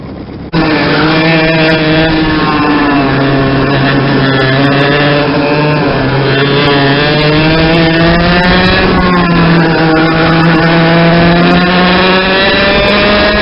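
Two-stroke Yamaha engine on an Intrepid kart chassis racing at a club kart championship round, a loud, close, continuous high-revving buzz whose pitch rises and falls steadily as the kart works through the track.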